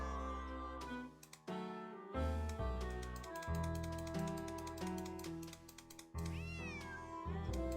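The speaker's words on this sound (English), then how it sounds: "Otherwise, he'll just keep meowing." Cat meowing inside the video game Nancy Drew: Secret of the Old Clock, heard close and clear over a full bed of game music with pitched cries rising and falling throughout.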